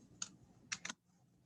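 A few quick keystrokes clatter on a computer keyboard: one tap, then a short cluster of three, faint and close in a quiet room.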